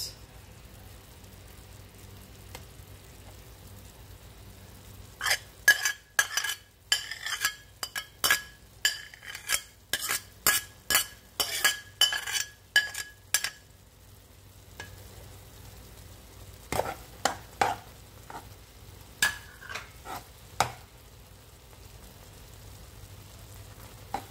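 Banana ube crepe filling with grated cheese is mixed in a bowl with a long burst of quick, fast clinking and scraping strokes, then a short pause and a second, shorter flurry, all against a quiet background.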